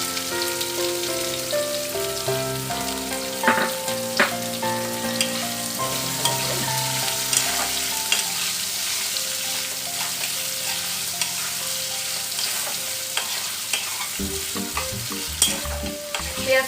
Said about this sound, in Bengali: পেঁয়াজটা ভালো করে একটু লাল লাল করে ভাজা হবে।